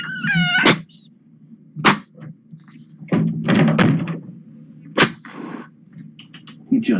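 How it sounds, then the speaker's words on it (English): Kougra, a cat recovering from a sinus infection, is heard indoors with a meow at the start, then several short, sharp sneeze-like bursts spaced apart, along with low thumps. "He just sneezed."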